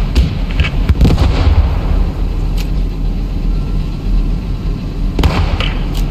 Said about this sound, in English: Bazooka has been destroyed.